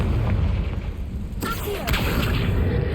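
Confringo blast spell cast in Hogwarts Legacy, a fiery magical burst that booms out over steady in-game background noise, with a second sharp impact following shortly after.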